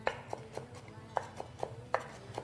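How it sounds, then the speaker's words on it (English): Shredded carrot being chopped into small pieces with a knife on a board, about ten sharp, crisp knife taps in an irregular rhythm, close and clear with no talking. "now the shredded carrot, I'm just going to chop it to little small pieces"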